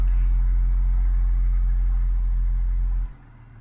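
Ford Explorer ST engine and exhaust giving a steady, loud low hum at idle that suddenly drops to a quieter rumble near the end; no voices.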